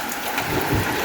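Heavy rainwater pouring off an old house, rushing around a corner and shooting down a drainage path; a steady, dense wash of water noise fills the whole stretch with no pauses.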